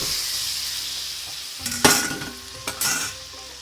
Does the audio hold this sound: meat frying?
yes